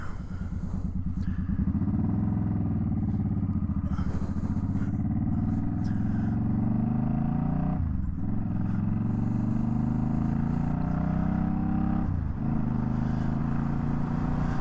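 A Suzuki Boulevard M50 cruiser motorcycle accelerates through its short gears, its engine droning loud and close and rising in pitch, with brief dips at each of several gear changes.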